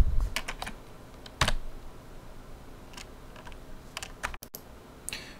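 Code is typed on a computer keyboard during JavaScript game programming, with uneven bursts of key clicks and one louder clack, close up and with no talking.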